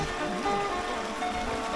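A forest stream swollen after overnight rain rushes strongly along a mountain trail, a brief, close, steady wash of flowing water with no voices.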